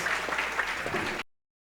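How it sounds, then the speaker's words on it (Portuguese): Audience applause at a school presentation for 6th to 9th grade classes, a brief dense burst of clapping from a seated crowd that cuts off abruptly after a second. "Mais uma salva de palmas."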